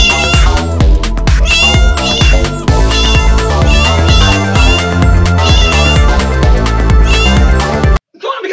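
Cats meow repeatedly over loud, busy music, the high mewing calls recurring in quick succession before the sound cuts out abruptly near the end.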